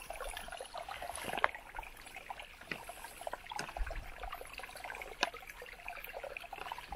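Creek water trickles and dribbles through a squeeze water filter outdoors on a windy mountain camp, a soft irregular stream with small splashes under gusty background noise.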